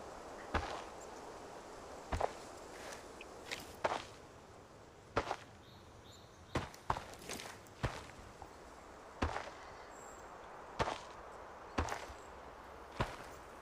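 Running footsteps in the Arena Breakout video game come as scattered quick thuds, some single and some in short bursts, moderately close over a quiet hiss of background ambience.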